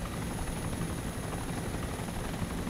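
A Little Bird helicopter in the video game DayZ Origins flies with a steady, dense rotor and engine roar that fills the whole clip at constant loudness, with no voices.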